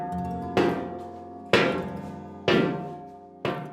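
Hammer striking a copper cauldron being shaped in an old craft workshop: four loud, ringing metallic blows about one second apart, each decaying slowly into silence.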